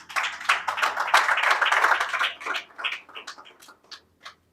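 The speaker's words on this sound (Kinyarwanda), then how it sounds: "Twamukomeye amashyi nyamuneka." An audience at a panel event gives a burst of applause, dense clapping at first that thins out into scattered individual claps before fading away.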